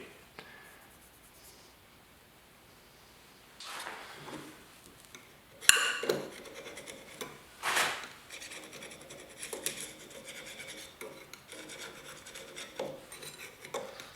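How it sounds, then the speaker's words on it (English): A scraper works hardened pitch off the edge of a Delta 22-560C planer blade in a quiet shop, producing short dry rasping strokes, faint and close, with a couple of sharper scratches between them. "Just got a little bit of pitch on that one edge right there. Just gonna scrape it off."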